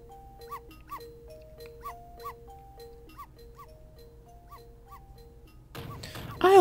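A small game dog in Ghost Trick gives repeated short yips and barks in a steady rhythm over a looping electronic tone, ending with a louder burst of noise.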